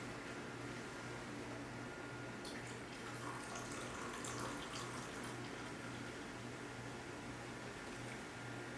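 Ginger beer poured from close by into a glass of rum, a soft steady fizzing splash running for several seconds at low volume, with nobody talking.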